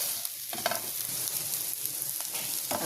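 Chillies fry in a pan as coriander-cumin powder and a pinch of turmeric are stirred in, a constant sizzle broken by several scraping strokes of the spoon, close and clear with no talking.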